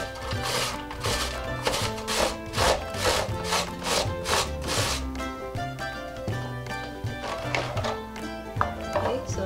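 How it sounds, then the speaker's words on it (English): Peeled taro is grated into coarse strips on a hand grater, giving a close, rhythmic rasping as quick strokes repeat and then slow to scattered scrapes. "Before I do that, I will have to grate it using this grater."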